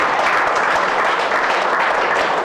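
Dense, steady audience clapping at a gathering, loud and sustained throughout without a break.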